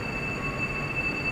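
A Whoosh high-speed train at a busy station gives a steady, moderately loud low rumble with a thin constant high whine running through it, continuous with no speech.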